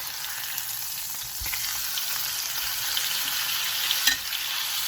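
Spicy Korean skirt steak sizzles loudly on a hot grill, a dense, continuous frying hiss that swells slightly after the meat is flipped, with a brief clunk of the turn partway through.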